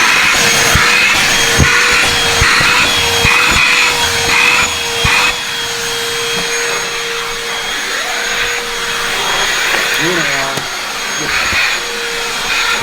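A DeWALT handheld vacuum runs loud and steady throughout, its motor whine continuous as it sucks up garbage, with brief rattles and scraping bursts of debris being pulled in and a short pitch change near the end.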